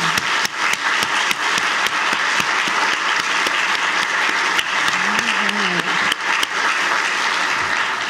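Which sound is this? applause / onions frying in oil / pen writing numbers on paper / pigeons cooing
applause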